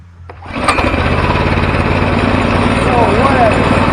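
Harbor Freight 424cc inline twin small engine starting: a brief cranking pull, then it catches and settles into a loud, steady, rapid idling chug, close up with voices briefly over it.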